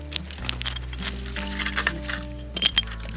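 Glass and crockery clinking in an old outback bottle dump at a former station site, a run of light irregular clinks and taps over steady low background noise.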